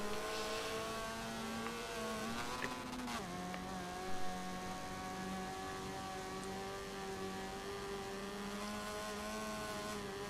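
Race car engines in the TORA NAFFCAR racing video game, a steady droning whine holding and shifting pitch as cars pass and overtake, fairly loud and continuous with no talk.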